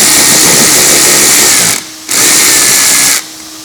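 Power tool whirring on bolts while removing a panel on a 2016 VW Jetta, two loud sustained bursts with a short pause between, no talking.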